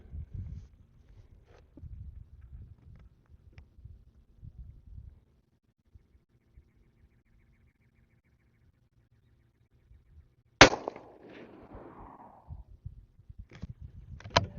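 A CZ 457 American rifle in .17 HMR fires a single sharp, loud shot outdoors after a stretch of quiet low rustling, with a short trailing echo and faint handling noise after it.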